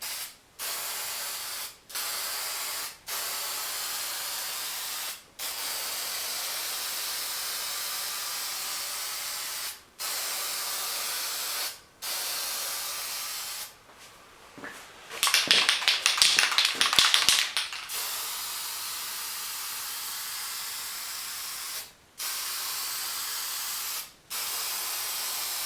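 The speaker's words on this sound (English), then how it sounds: "I'm just going to start hitting with first coat of bed liner." Bed liner sprays from an aerosol can onto a GMC Safari truck's front bumper in repeated long hissing bursts separated by short pauses, with a louder, rougher spray stretch partway through.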